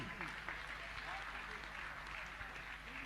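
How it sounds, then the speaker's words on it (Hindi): A crowd at a Jain religious gathering claps continuously at a fairly low level, a soft wash of hands with voices murmuring underneath. "हम चाहेंगे कि आप तालियां बजाइए अच्छे से"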